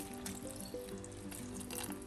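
Water poured into a small vessel of green peas with turmeric and salt makes a continuous close splashing, gurgling flow with a faint ringing tone from the vessel, heard alone.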